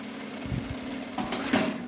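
A sewing machine runs through short stitching bursts, reinforcing seams on a bag strap for a small cosmetic case, with a close mechanical whirr and a few faint knocks.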